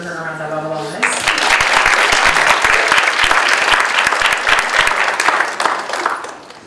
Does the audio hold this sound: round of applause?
yes